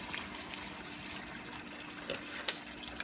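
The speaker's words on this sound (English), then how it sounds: "add a little of water" A little water trickles and pours into a pot of cooking pinakbet vegetables, a faint, soft splashing with a few small clinks.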